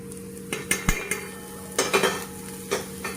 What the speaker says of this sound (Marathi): आता आपण ही कांदा पात टाकून घेऊ तेलामध्ये